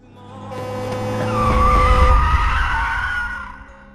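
A truck drifts with its tires skidding and squealing, a low engine rumble underneath, swelling loud in the middle of the four seconds and fading toward the end.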